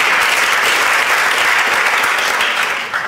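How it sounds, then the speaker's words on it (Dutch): Audience members at an Amsterdam public discussion evening give a short burst of loud, dense applause that fades slightly at the end. "APPLAUS."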